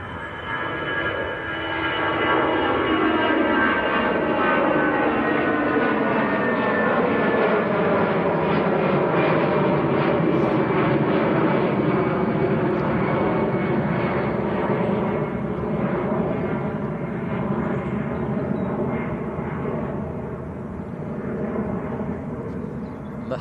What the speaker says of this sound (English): next to go, Easyjet. This one's off to Amsterdam.